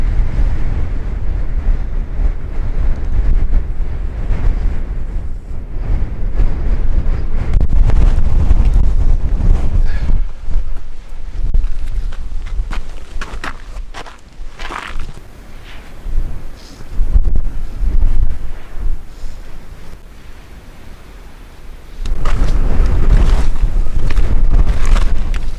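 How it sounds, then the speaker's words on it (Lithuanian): Strong wind sweeps across Kinder Scout moorland, roaring loudly against the microphone in long gusts that ease off briefly and then surge back. "Mylių per valandą greitis vėjo."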